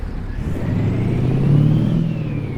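Truck engine in American Truck Simulator, a steady throaty low drone that swells slightly mid-way while cruising, loud and continuous with no talk over it.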